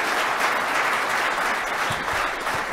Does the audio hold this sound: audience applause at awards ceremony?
yes